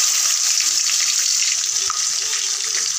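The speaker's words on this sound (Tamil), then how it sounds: "எண்ணெய் காஞ்சிருச்சு ரெண்டு பட்டை ரெண்டு கிராம்பு ரெண்டு ஏலக்காய் சோம்பு எல்லாம் சேர்த்து நல்லா பொரிஞ்சிருக்கும்" Cinnamon, cloves, cardamom, fennel and onion fry in hot oil, making a loud, continuous close sizzle with a faint stirring undertone.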